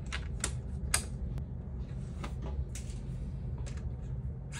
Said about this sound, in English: And the two Phillips screws, one of them goes in here, and the other one goes in here.